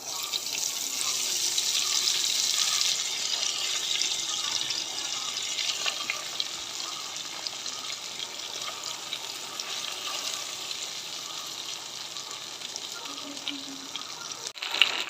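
Chicken legs fry in hot oil in a pan, a steady bright sizzle that is strongest at first and then settles into a continuous, even crackle, close by with no one speaking.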